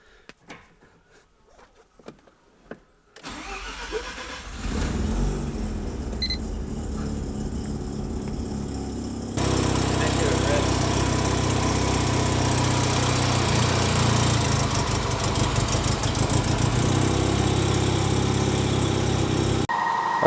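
A Mazda FD RX-7 rotary engine, fitted with custom fabrication work, cranks over after a few quiet seconds and catches, then runs loud and steady close by, its idle rising to a harsher, fuller roar partway through.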